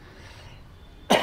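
A single short, sharp cough bursts out at the very end, following a quiet stretch of faint room noise.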